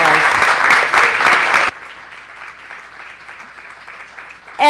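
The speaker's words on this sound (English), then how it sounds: "Let's give Atiaf a warm round of applause" An audience at a Sunday school café talk claps loudly and densely for a speaker at close range. The applause then cuts to faint, thin scattered clapping before a brief loud burst returns at the end.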